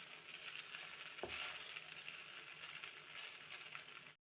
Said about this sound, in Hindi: सभी वेजिटेबल्स के अंदर हम मिक्स कर देंगे अपने कुक्ड राइस को, पके हुए चावलों को। अच्छे से हमने टॉस कर दिए हैं।